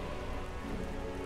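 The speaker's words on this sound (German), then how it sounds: "weil wir stürmenden Regen haben" Heavy stormy rain pours down in a dense, steady hiss of drops striking a surface, constant and loud throughout with no voices.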